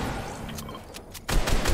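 Bursts of automatic gunfire from a Fortnite FNCS trio tournament match, a quieter patch of shots followed by a loud, dense spray of rapid fire near the end, with no talk.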